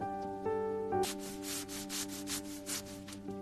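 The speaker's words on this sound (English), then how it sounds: "I scrub the floor." A bathroom floor being scrubbed: a brief tone gives way to repeated rhythmic brushing strokes, close and moderately loud, with no talk.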